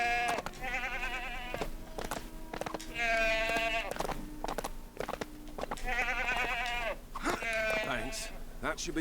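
Goats bleat repeatedly in the LEGO The Hobbit video game, several loud, wavering cries spaced across the stretch, with sharp clicks and thumps of game action between them and a voice talking alongside.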